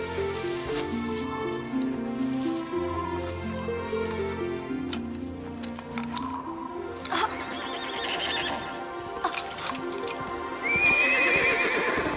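A cartoon horse whinnies in a long, wavering neigh over bright background music, followed by hooves clip-clopping and another high, shrill whinny near the end, all close and clear without speech.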